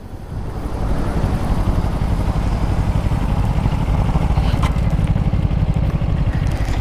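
A KTM Duke 390 motorcycle at full throttle in a race, a loud, steady engine roar that builds over the first second and holds close and constant throughout.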